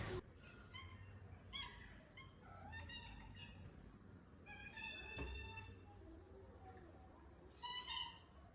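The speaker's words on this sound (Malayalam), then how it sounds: "ഈ ഡോർ ഓപ്പൺ ചെയ്യാൻ വേണ്ടിയിട്ടാണ് കേട്ടോ ഇത് കരയുന്നത്." Domestic cat meowing at a closed door to be let through, a series of several plaintive meows spaced irregularly, close by in a quiet indoor room with a low background hum.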